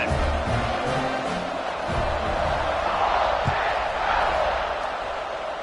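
Stadium crowd in a Madden football video game roaring steadily after a scoring drive before the kickoff, a dense sustained wash of cheering with an occasional thump, loud and continuous.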